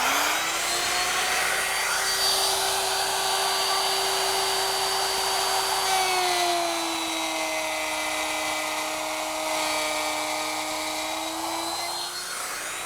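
A router fitted with a 1/2 inch bit and guided along a T-square cuts a groove in wood, giving a loud, close, steady high-pitched whine whose pitch dips slightly partway through the cut before it winds down.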